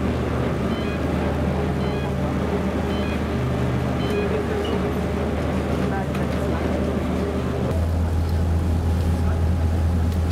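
A taxi boat or shuttle boat cruises the Elbe through the Hamburg harbor, its engine a steady low drone with water wash throughout, and the hum deepens and strengthens near the end. Voices murmur faintly in the background.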